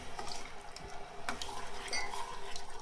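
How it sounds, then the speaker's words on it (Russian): Soft clinks and liquid swishing as cabbage salad marinade with sugar, salt and vinegar essence is stirred in a pot, close and fairly quiet with a continuous bubbling undertone. "Перемешиваем."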